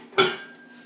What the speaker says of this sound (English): I take my parboiled potatoes, they're still hot, and I put them in the bottom of the pan